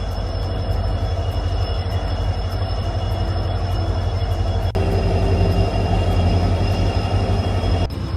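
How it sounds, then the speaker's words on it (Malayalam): A train on the Pamban Bridge line out of Rameswaram rumbles steadily and loudly close by, with a continuous low roar, rail hum and faint high squeal, and no voices. "നമുക്ക് അകത്തോട്ട് ട്രെയിൻ ഇതാ എടുത്തു."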